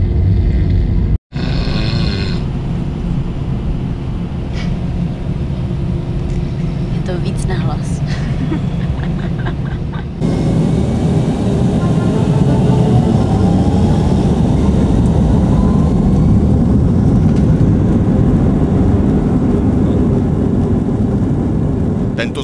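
Airplane engines start up for a night takeoff in China, a heavy, rising roar with rumbling low end that swells and stays loud, with talking in the cabin heard throughout.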